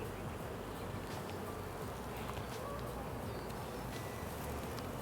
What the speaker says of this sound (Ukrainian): От бачите, бджілка працює